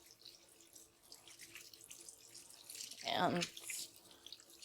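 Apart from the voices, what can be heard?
hands washed with dish soap under running tap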